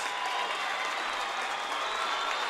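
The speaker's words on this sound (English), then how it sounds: "Listen to this crowd, folks, at Letchworth High School." A packed high school gym crowd at Letchworth High School applauds and cheers in a steady roar during a boys basketball state qualifier, with no break in the noise.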